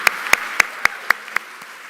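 Seven sharp, evenly spaced claps ring out in a quick rhythm at an MBA commencement for staff, each loud and distinct, fading slightly toward the last one.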